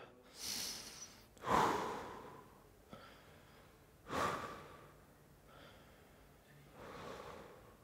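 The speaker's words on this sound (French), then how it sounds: "Quatre respirations." Slow, deep breaths during a glute exercise come as about five distinct breaths with audible sharp inhales and long exhales. They are close and fairly quiet, with pauses between them.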